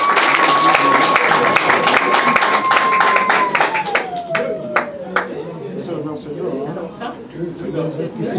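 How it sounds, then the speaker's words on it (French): Scattered claps from guests at a civil wedding ceremony, applauding a small boy, with people talking over them and a sliding tone in the background. The clapping thins out toward the end. "Applaudissez pour lui."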